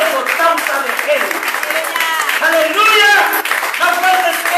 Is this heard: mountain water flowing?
no